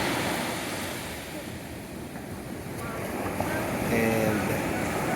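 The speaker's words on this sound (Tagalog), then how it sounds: "The waves are a little bit strong" Strong ocean surf rolls steadily onto a clean beach, a continuous broad wash of breaking waves with wind buffeting the microphone, loud and close throughout.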